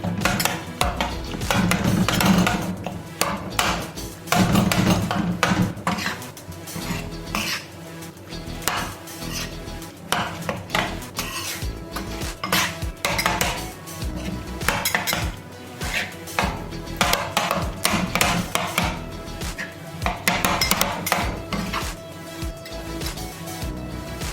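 Brain being mixed into taka tak on a hot pan over a medium flame, metal spatulas clattering and scraping rhythmically against the pan in continuous busy strokes, with a faint sizzle underneath and no voices.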